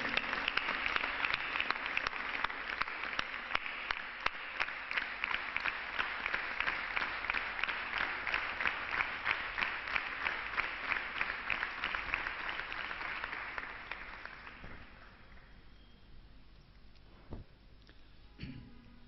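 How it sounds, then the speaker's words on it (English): Sustained audience applause after a devotional singing performance, dense steady clapping filling the hall for about fourteen seconds before tapering off into scattered claps and near silence. "Let's continue our applause to Karthik"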